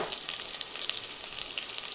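Chopped onions sizzling in hot oil with cumin for an egg curry, a faint steady frying hiss with small crackling pops throughout, no voices.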